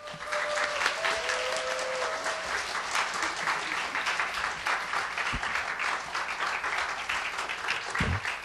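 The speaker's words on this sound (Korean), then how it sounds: "우리 안민 교수님 뜨거운 박수로 모시도록 하겠습니다" Warm audience applause at a church mothers' prayer meeting welcomes a guest professor to the stage: dense, steady clapping from a full room, sustained and fairly loud throughout, with no voices.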